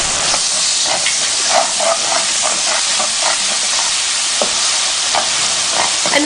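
Sautéed onions, spices and ginger garlic paste fry loudly in a pan, a dense continuous hiss and sizzle with light rhythmic ticks of stirring throughout.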